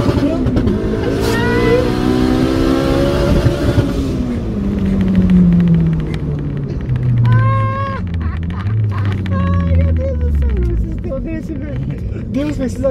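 A turbocharged Honda Civic Si rated at 380 hp, fitted with a Master Power 595 turbo, revs hard in second gear, its loud engine note rising and falling across the clip with excited voices talking over it.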